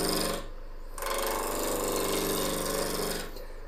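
Wood blank being trued up on a lathe before hollowing, a continuous close rough scraping and grinding roar of the cutting tool on the spinning wood, starting and stopping abruptly, no voices.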